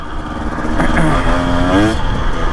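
A 2025 Husqvarna TE 250 enduro dirt bike with a TSP tune and FMF exhaust idles and revs nearby, its engine note rising and falling steadily with no pauses.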